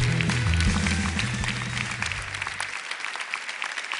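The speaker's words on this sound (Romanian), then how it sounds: "Să primim cu aplauze pe clownul Bobo!" Audience applause welcomes a clown onto a comedy stage show, heard as steady clapping under music at first, then continuing as a thinner scattering of claps once the music cuts out.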